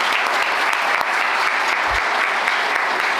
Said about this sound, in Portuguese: Uma salva de palmas para a dona Neuci